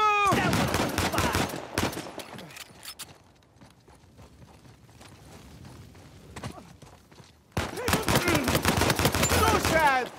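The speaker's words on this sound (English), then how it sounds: "Can we start shooting people soon?" Heavy bursts of video game gunfire, a dense rattling fusillade, open the scene and return after a quieter stretch of scattered shots and clatter, loud and close.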